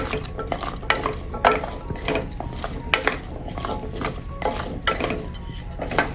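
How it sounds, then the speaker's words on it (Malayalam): Sliced shallots (small red onions) are stirred in a pan over a medium flame, with repeated clattering scrapes of a spoon on metal over a light sizzle, close by and irregular, with no speech. "ഇനി ഇതൊന്ന് ഇളക്കി കൊടുത്ത് ഈ ഉള്ളിയെല്ലാം ഒന്ന് വാടി വരണം, അതുവരെയും ഒന്ന് ഇളക്കി കൊടുക്കാം."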